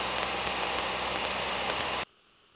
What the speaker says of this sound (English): Looks like it's raining.